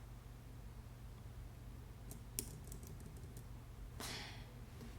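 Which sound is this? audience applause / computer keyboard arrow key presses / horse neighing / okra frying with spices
computer keyboard arrow key presses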